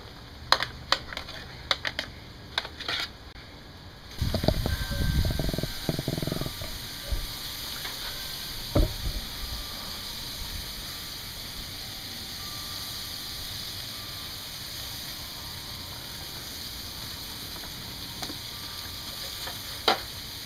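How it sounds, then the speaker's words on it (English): Pork ribs coated in a brown sugar rub hit a hot grill, a few scattered clicks and knocks giving way to a steady, close sizzling hiss with occasional sharp taps, no voices. "So we're going to throw these on the grill now. I'm going to put these on the grill."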